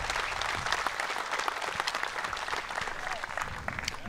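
Sustained applause from an audience at a professional archery shoot-down final, a dense steady patter of many hands lasting throughout at moderate distance, with no voices on top.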